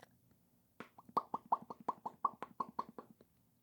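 A voice makes a quick string of soft popping, plopping sounds, about a dozen in a steady rhythm, imitating a fish blowing bubbles.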